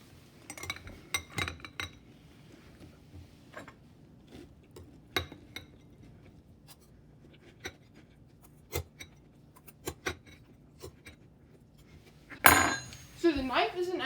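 A knife clinks and scrapes against a bowl while scooping Cheerios and milk, giving scattered light metallic taps and clatters throughout, followed by a louder burst of clattering near the end, with speech nearby.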